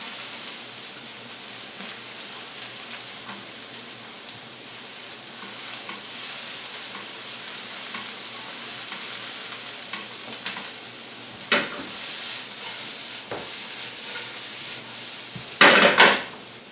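Shredded cabbage stir-frying over high heat for a chicken stir fry, a steady close sizzle with scraping tosses of a utensil and a few louder clatters of the pan near the end, no talking.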